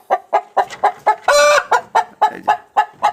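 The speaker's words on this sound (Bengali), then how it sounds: "এটা হচ্ছে মোরগ" A Brahma rooster with feathered feet clucks in a steady run of about a dozen short, loud, close calls, one longer squawk breaking the rhythm midway.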